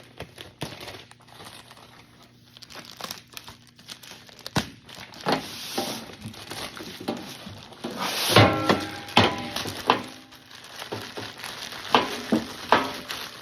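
A pocket knife slices into the cardboard and plastic packaging of a Harbor Freight 100 lb welding cart box, producing scraping, tearing and crinkling bursts that grow louder and busier midway, close up with no talk.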